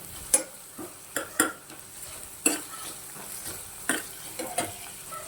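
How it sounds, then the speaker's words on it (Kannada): Egg roasting in a pan for egg rice, stirred with a utensil: a soft sizzle runs underneath while sharp scraping strokes land at an uneven rhythm, close up and moderately quiet. "ನಾನು ಇಲ್ಲಿ ಸಪ್ರೇಟಾಗಿ ಎಗ್ ರೋಸ್ಟ್ ಮಾಡಿಕೊಂಡು ಆಮೇಲೆ ರೈಸ್ಗೆ ಮಿಕ್ಸ್ ಮಾಡ್ತೀನಿ."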